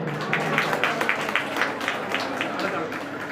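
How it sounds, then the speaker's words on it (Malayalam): Audience clapping at an honoring ceremony in Kerala, a steady patter of many hands with small irregular peaks, moderately near and filling the short stretch without a break. "നല്ലൊരു കൈയടി സമ്മാനിക്കുക"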